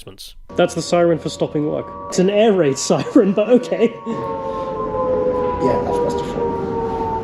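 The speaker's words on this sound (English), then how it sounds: "That's the siren for stopping work. It's an air raid siren, but okay." An air raid siren sounds to signal the end of the working day, its long steady wail droning loudly while someone talks close by over the first part.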